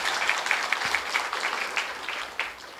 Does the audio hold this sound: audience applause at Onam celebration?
yes